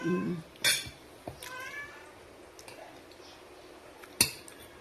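A cat meows briefly near the start amid light clinks of dishes and cutlery, with a sharper clatter toward the end.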